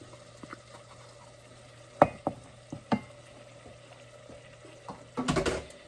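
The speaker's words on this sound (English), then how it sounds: "And giving it a quick stir." Spoon stirring pumpkin soup with bacon and shallots in a pot, a few sharp scraping knocks against the metal over a quiet background hiss, with a louder burst of clattering near the end.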